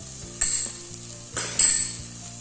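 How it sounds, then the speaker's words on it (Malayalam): Crushed black pepper being stirred into masala for a Kerala chicken stew cooked in coconut milk, with a low steady sizzle under three sharp scrapes and clinks of a spoon against the pan. "ഇതുപോലെ കൊടുത്തിട്ട് നന്നായിട്ടൊന്ന് ഇളക്കാം"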